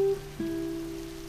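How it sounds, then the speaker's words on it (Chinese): Rain falls outside, a steady soft hiss with faint tonal hum lines running through it and no voices. "外面在下雨，你们是要出去吗？"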